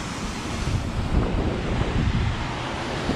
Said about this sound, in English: Well, it's even windy down here.